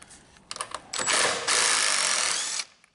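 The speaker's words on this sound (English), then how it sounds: "But I'm using a rattle gun, so it vibrates those" An impact wrench backs out Loctite-treated carburetor screws on a Briggs and Stratton engine. A few short clicks lead into a loud, rapid rattling buzz, with a brief pause before a second longer burst that cuts off sharply.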